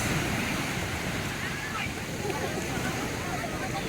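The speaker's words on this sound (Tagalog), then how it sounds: "Lakas ng alon." Strong ocean surf rolls in steadily at Tiwitiwi Beach in Legazpi, Albay, a dense continuous wash of breaking waves with wind noise, close and loud throughout.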